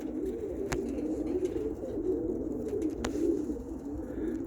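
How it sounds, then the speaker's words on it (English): Roller pigeons in a loft coo in soft, steady, low rolling murmurs, close and continuous, with a couple of faint sharp clicks in the background and no talking. "I got that bird over there."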